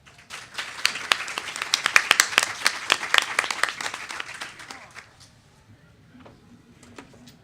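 Audience applause welcomes a woman onto the stage at a symposium panel, a dense burst of clapping that swells for about four seconds and then fades to scattered claps.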